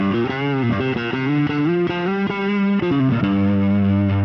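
Bass guitar played through a drive effect with the tone control turned down, heard via a speaker: a continuous distorted, softened riff of shifting notes, loud and steady, with no talking.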